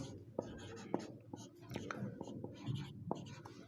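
A marker or chalk writes an equation on a board in a maths class, giving scratchy strokes and sharp taps close by while a voice speaks quietly over them.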